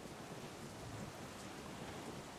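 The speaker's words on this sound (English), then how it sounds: "It's raining." Steady rain in Assassin's Creed Rogue hisses evenly throughout, a dense wash of falling water with a low rumble of distant thunder beneath it.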